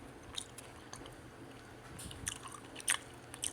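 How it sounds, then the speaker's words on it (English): Jelly beans being chewed close to the mic, with soft squishy bites and a few sharper crunchy clicks scattered irregularly over a quiet background. "I'm chewing jelly beans right now."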